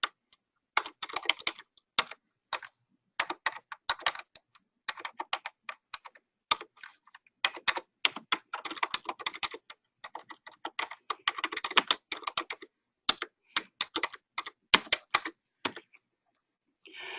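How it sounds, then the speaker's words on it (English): Computer keyboard typing during client data entry, with bursts of quick keystrokes separated by short pauses, close and fairly quiet, alone without talk. "You can use your tab key on the keyboard"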